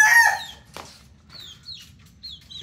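Young gamefowl stags about four months old, cluck and call close by: a loud squawk at the start, a flap-like burst, then thin high chirping calls repeating through the rest, with no one talking.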